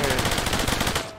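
Rapid automatic gunfire in the video game Cepheus Protocol's horde mode, a fast steady burst of repeated shots lasting about a second before cutting off.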